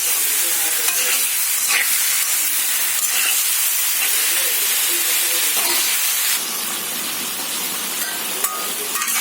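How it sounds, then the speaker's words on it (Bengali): Pointed gourd and potato pieces fry with spices in hot oil, a loud steady sizzle and hiss with occasional stirring scrapes, close and continuous without talk. "এখন কাঁকরোল আলু দিয়ে মশলার সাথে কষিয়ে নেব।"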